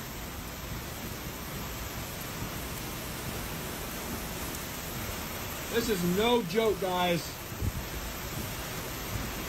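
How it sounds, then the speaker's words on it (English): Heavy rain and intense winds of a severe thunderstorm in Des Moines, Iowa, a steady broadband roar that continues without break, with someone speaking briefly over it near the end. "And as you can see, man, the rain is coming down."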